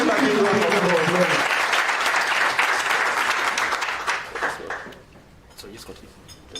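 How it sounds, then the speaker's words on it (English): Audience applause at a launch event: a dense burst of clapping from a crowd, loud at first with a voice over the start, then thinning out and fading to scattered claps. "Can we give him a big round of applause?"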